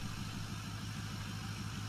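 A tractor engine runs at high RPM with a continuous, even drone and low rumble. It is faint and steady, with no voices or other sounds.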